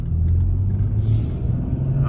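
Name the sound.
BMW X5 with 6-speed manual pulling away in second gear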